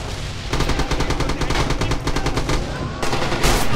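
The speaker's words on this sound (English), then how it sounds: "Enemy fire!" Rapid enemy gunfire in the World War II shooter Rising Storm, a sustained burst of machine-gun shots at an even clattering rhythm, loud and fairly close, breaking off briefly before more shots resume.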